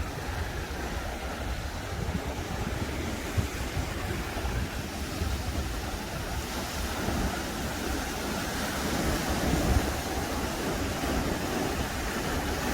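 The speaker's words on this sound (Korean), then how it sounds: "파도 소리 ASMR" Ocean waves washing against the rocks at Yongduam on Jeju at night, a steady broad surf wash with a breezy hiss, no talking.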